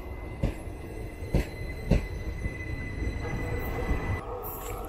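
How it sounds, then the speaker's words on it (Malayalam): The Ernad Express rolls into a station behind a Vijayawada-based WAP-4 electric locomotive, with periodic heavy wheel thumps over rail joints, a faint squeal, and a steady low rumble as the train passes close by. "വിജയവാഡയുടെ ഒരു വാപ് 4 നമ്മുടെ ട്രെയിൻ കയറി വന്നു."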